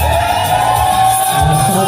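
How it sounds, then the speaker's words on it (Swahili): Wedding guests at a Lutheran church wedding in Uwemba, Tanzania, cheering, whooping and ululating together, a loud, dense crowd sound that holds steady for the whole moment. "Mjigelegele na makofi tafadhali"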